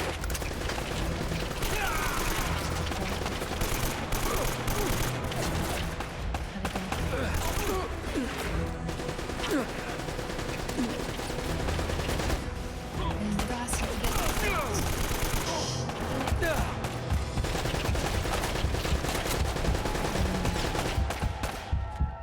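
Rapid machine-gun fire from the Uncharted video game rattles on almost continuously, loud and dense, layered with game effects and mechanical clatter for the whole stretch.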